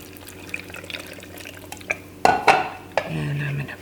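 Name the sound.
water poured into a blender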